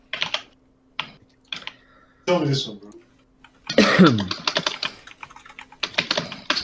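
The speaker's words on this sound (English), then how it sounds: "Heard you bashing the keyboard." Fast computer keyboard typing clatters in bursts, close and fairly loud, mixed in with men chatting casually and a cough.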